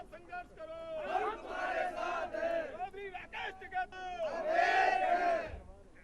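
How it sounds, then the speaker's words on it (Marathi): Protesting farmers at the Ghazipur border between Delhi and Uttar Pradesh chant slogans in a crowd. Two loud swells of raised, unison voices rise over background babble, with a short lull between them. "दिल्ली उत्तर प्रदेशच्या गाझीपूर सीमेवर शेतकऱ्यांनी घोषणाबाजी केली"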